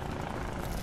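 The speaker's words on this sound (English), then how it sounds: "There's a helicopter." A helicopter in the heist video game Monaco gives off a dense, steady mechanical drone with a low rumbling thrum, continuous and moderately loud through the brief moment, with no voices over it.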